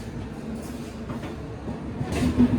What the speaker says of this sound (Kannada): ಪ್ಲಾಟ್ಫಾರ್ಮ್ ನಂಬರ್ 1ಕ್ಕೆ ತೂತುಕುಡಿ ಟ್ರೈನ್ ಬರ್ತಾ ಇದೆ ನೋಡಿ.